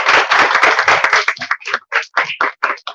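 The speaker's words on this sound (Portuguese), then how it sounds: "Vocês podem dar uma salva de palmas?" A church congregation claps at a cell-group inauguration service, starting as a thick burst of many hands and thinning into sparser, separate claps, close and loud.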